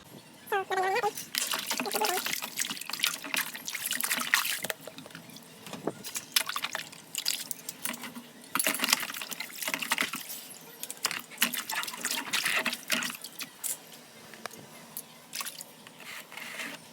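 Running water splashes and patters steadily over a soaped plastic electric fan cover being rinsed clean, with wet squishing and dripping throughout.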